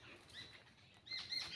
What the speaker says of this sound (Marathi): पक्ष्यांचे आवाज येत आहेत का तुम्हाला